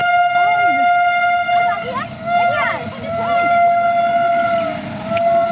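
A train goes by with a sustained, droning horn and a low rumble, while people talk nearby.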